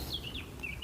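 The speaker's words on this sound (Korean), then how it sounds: "새소리 들리시나요? 새소리?" Birds singing by a clear Alpine lake, short high chirps and twittering calls, faint against quiet outdoor ambience.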